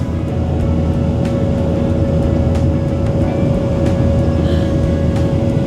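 Airliner taking off from Durban, heard from inside the cabin as a loud, steady engine roar with a constant whine running throughout, no voices.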